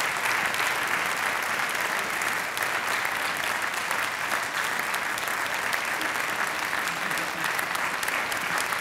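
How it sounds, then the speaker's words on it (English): Dense, steady audience applause fills a hall at a district address, loud and continuous for the whole stretch with no voices breaking through. "let's give them all an applause"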